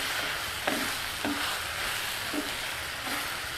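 Ridge gourd pieces fry with turmeric and curry leaves while being stirred: a constant bright sizzle broken by a few soft scraping stirs at regular intervals.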